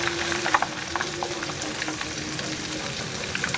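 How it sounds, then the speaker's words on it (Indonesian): Bihun gulung, rolled rice vermicelli, frying in heavily foaming oil reused from an earlier batch of cilor, giving a steady close sizzle and bubbling with scattered small pops throughout, no talking. "ini minyaknya berbusa banget ya, karena kemarin saya habis menggoreng cilor"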